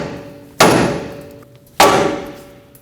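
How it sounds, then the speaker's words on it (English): Two loud, sharp hammer blows ring out on the top of a steering knuckle of a 2007-2017 Ford Expedition during front strut replacement, about a second apart, each with a metallic ring that slowly decays. "Now take a hammer on the top of the knuckle,"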